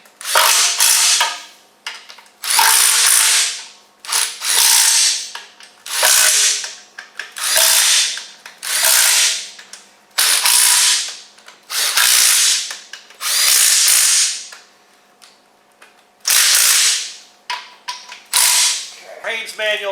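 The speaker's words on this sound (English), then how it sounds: "9 bolts hold this on. Down with our impact drivers temporarily." Impact drivers rattle and buzz loudly in about a dozen separate bursts, each a couple of seconds long with short pauses between, as bolts are taken out of the bell housing of a crew cab Cummins truck.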